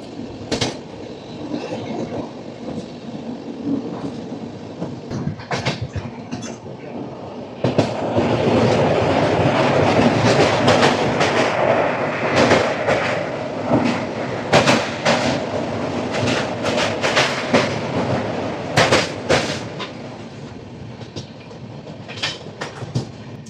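East Coast train hauled by a Bezawada-based locomotive running through Anakapalle railway station without stopping, a loud continuous rumble with rattling wheel clatter that intensifies partway through as the cars pass close by.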